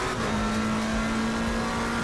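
A race car drives at the Paul Ricard circuit, its engine holding a steady, loud droning tone throughout the short stretch with no talking.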